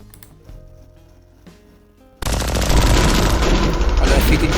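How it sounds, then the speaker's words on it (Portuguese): Gunshot sound effect preview from a free sound effects site, a sudden loud burst of rapid gunfire that erupts after quieter background music and keeps rattling densely to the end. "Olha o efeito de tiro."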